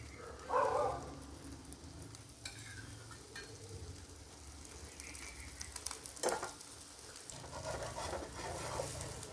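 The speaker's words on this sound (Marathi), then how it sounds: "आता आपल्याला बाजूने थोडंसं तेल सोडायचं आहे यात" A cabbage paratha fries in a little oil on a pan: a faint, steady sizzle runs throughout, with occasional soft scraping and clinks near the cook.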